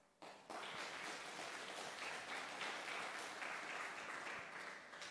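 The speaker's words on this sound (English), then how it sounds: "please give applause for us" An audience at a hydrogen metallurgy symposium breaks into applause, the clapping starting suddenly and holding as a steady, even roar in a large hall, with no talking.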